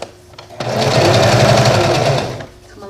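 A sewing machine runs in one steady, loud, close burst as it stitches elastic onto a fabric face mask. It starts abruptly, hums at an even rapid stitch rate and then slows to a stop.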